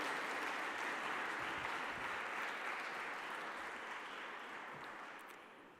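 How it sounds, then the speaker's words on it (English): Conference audience applauds colleagues in a large hall, a dense, sustained wash of clapping from many hands that holds steady, then slowly thins and fades toward the end, with no voices over it. "So please join me in applauding my colleagues"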